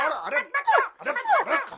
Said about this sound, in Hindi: इतना बड़ा कुत्ता है, काट लेगा।